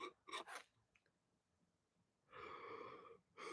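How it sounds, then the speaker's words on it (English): A person yawns, a drawn-out breathy exhale with a slight wheezing tone, framed by short sharp intakes of breath before and after, close and quiet. "sorry for yawning so much."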